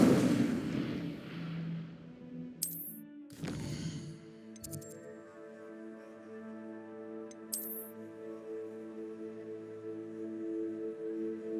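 Fire spell Incendio cast in Hogwarts Legacy: a loud whooshing burst of flame with sharp impact cracks, followed by lingering tonal magical ringing and another bright zap later, set against ambient game music.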